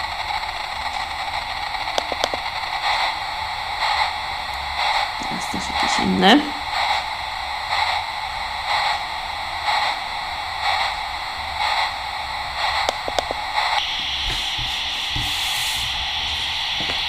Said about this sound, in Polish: Jest to pięć rodzajów szumu.